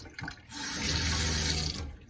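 Steady rush of water runs from an affordable faucet with a high-rise aerator, installed in a 1978 Airstream Argosy RV. The flow starts abruptly, holds even and fairly loud for over a second, then cuts off, with no voices.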